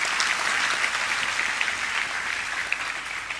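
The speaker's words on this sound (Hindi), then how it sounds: "इन सब का ताली बजा के हम स्वागत करेंगे।" An audience claps continuously in welcome for a guest returned from Canada at a Gayatri Pariwar gathering in Shantikunj, dense sustained applause from a crowd with no speech over it.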